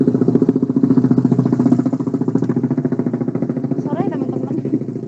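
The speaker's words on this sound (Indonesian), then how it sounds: "Di sini tuh motor itu suara kenceng banget." A loud motorcycle engine outside throbs with a rapid, pulsing exhaust beat, steady and close, while a voice briefly speaks over it near the end.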